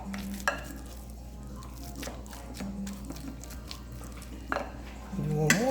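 Boiled potatoes are mashed with a tablespoon of melting butter for shepherd's pie, giving soft, steady squishing and stirring close by, with a few knocks of the masher against the pot.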